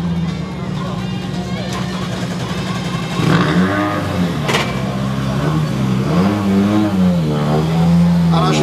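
A Ford Fiesta R5 rally car of Team L Racing at Rally Presov 2017 revs its engine with a steady droning tone that rises and falls in pitch, heard under a commentator talking over it.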